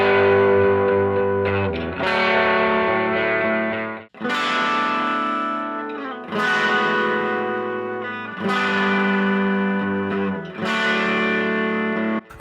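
Distorted electric guitar chords ring out through a small speaker cabinet converted from an old stereo, about six sustained strums each left to decay, loud and alone.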